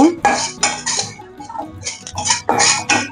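Poppy seeds roasting in a pan for Sankranti maadli, stirred with a utensil, giving close, loud bursts of scraping and clinking against the metal in uneven strokes.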